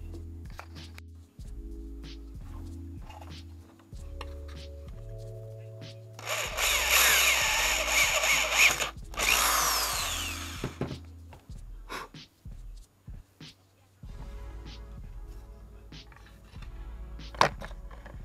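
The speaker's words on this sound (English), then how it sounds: "I need to drill a hole in here for" A power drill boring a hole into a plastic tail light housing on a 1971 Nova, a loud whirring burst of a few seconds amid quieter handling noises and low hum.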